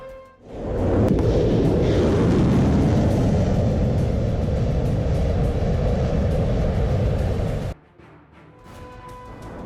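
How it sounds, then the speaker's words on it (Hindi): A Minuteman III intercontinental ballistic missile test launch at Vandenberg Air Force Base in California, a loud sustained roaring rumble that swells quickly and holds for several seconds before cutting off abruptly to a quieter background. "अमेरिका ने अपनी सबसे ताकतवर इंटरकॉन्टिनेंटल बैलिस्टिक मिसाइल मिनटमैन 3 का टेस्ट किया, वो भी कैलिफोर्निया के वैंडनबर्ग एयरफोर्स बेस से"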